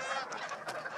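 Geese honk in a short, continuous burst of nasal calls, fairly faint and slightly distant, with no talk.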